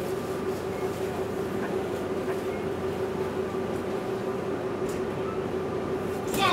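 Tze-Chiang express train number 305 rolling into Kaohsiung Station, heard from inside the carriage as a steady low rumble with a constant drone, loud and unbroken, swelling slightly at the very end.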